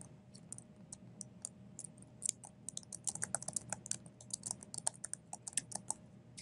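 Typing on a computer keyboard in a quiet room: quick irregular bursts of light key clicks, close by, sparse at first and then denser, over a faint low hum, with no talking.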